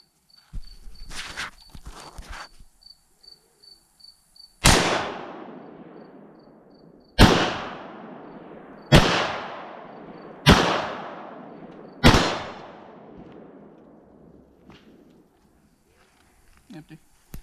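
Chinese SKS semi-automatic carbine firing five sharp, loud shots at uneven intervals, each with a decaying echo, after some faint handling clicks at the start.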